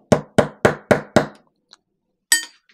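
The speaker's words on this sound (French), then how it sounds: "un marteau. On tapote dessus." A hammer taps a small metal socket five times in a quick, even rhythm, each strike sharp and ringing, followed by a short pause, a faint tick and one more louder strike, close up with no talking.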